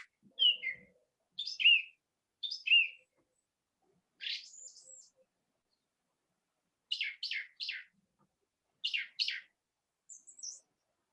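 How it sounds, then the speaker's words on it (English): A song thrush singing at Dancer's End, delivering short clear whistled phrases, some repeated in quick triplets, with quiet pauses between them, fairly distant and alone with no other noise. "what we'll be hearing in the background as well, especially at Dancer's End, will be the song thrush"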